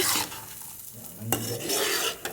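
Spiny gourd pieces stir-fried with chilli powder in a pan: a brief close sizzle with scraping stirs, a sharp clack midway, and no talking.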